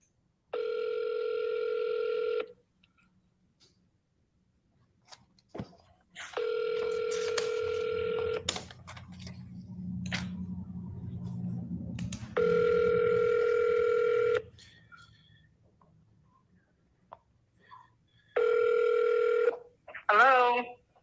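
A smartphone dialing system places an outgoing call, giving several long, evenly spaced ringback tones separated by gaps with faint background murmur, then a short burst of rapid warbling tones at the end.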